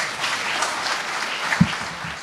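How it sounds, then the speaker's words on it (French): Applause from the audience at a local stage event in Le Cateau-Cambrésis, a steady, soft wash of clapping hands with a single thump partway through. "me rejoindre sur la scène sous vos applaudissements"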